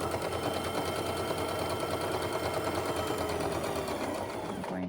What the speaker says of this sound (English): sewing all the way to the end